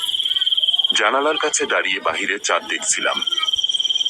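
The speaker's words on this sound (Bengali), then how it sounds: "আর ঝিঝি পোকারা তো ডেকে যাচ্ছিল অবিরাম" Steady, continuous cricket chirping at night, a high pulsing trill that runs throughout while a person speaks over it.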